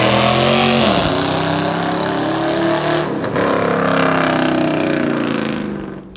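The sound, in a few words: 2019 Dodge Charger Scat Pack engine revving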